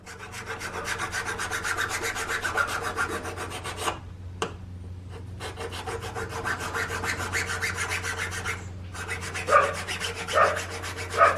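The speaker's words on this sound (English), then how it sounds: "I've just got a fine flat file, and I'm holding it as flat as I can and just going across it" A fine flat file rasps steadily across metal in repeated even strokes, close and moderately loud, pausing briefly twice before resuming, with no speech.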